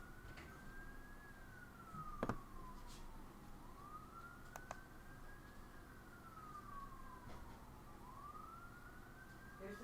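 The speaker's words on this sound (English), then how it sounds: "There's the bedtime siren going off again" A far-off bedtime siren wails in slow rising and falling sweeps, faint but steady across a quiet background, with a couple of brief clicks.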